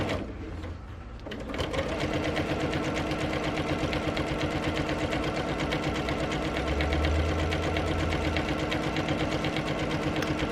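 Sewing machine stitching a pillowcase seam, a fast even mechanical chatter that starts after a brief pause and runs steadily and close, loud and uninterrupted.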